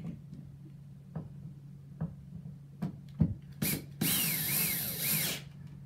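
A power drill driving screws through a smoke alarm mounting bracket into a ceiling, with a few faint taps leading to a sustained, loud whirring run near the end; no talking.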